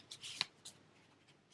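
Quiet card shuffle at close range, a few soft riffling bursts and flicks within a second or so.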